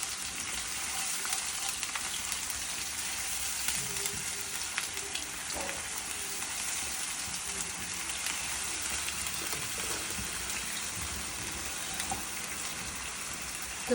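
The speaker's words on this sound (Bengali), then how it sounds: "একটু নেড়ে নেওয়া হচ্ছে যাতে কাঁচা গন্ধটা না থাকে।" Ingredients for a prawn dish frying and being stirred in a pan, a steady dense sizzle with faint scraping of the spoon, close and continuous with no talk.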